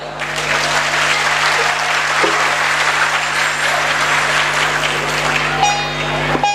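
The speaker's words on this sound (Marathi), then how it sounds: "जे जे मंत्रमुग्ध झाले त्यांनी टाळ्या वाजवा" An audience claps together at a folk bharud performance, a dense, steady burst of applause that holds throughout before thinning slightly near the end.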